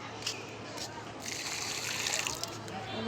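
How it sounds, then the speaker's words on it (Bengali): Water trickles and splashes steadily onto garden plants being watered, a continuous wash of sound at moderate distance. "সব গাছে পানি দিয়ে দিতেছি"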